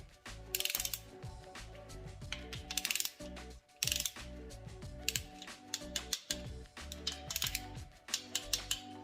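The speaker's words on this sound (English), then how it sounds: "I'm going to tighten in a cross pattern fashion." A hand ratchet clicks in rapid bursts while cross-tightening bolts on a VW 40hp engine during reassembly, the metallic ratcheting close and steady with brief pauses between strokes.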